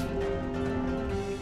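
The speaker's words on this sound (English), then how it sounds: "There's the other bell." A bell chimes in the Dead Cells video game, a sustained, steady ringing tone holding evenly through the whole moment with no talking over it.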